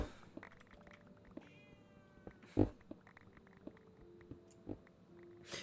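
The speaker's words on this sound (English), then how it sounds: "my cat is currently sitting under my desk screaming at me" A cat sits under a desk and gives a few short, fairly faint meows and yowls, with one sharp louder cry, over quiet room background.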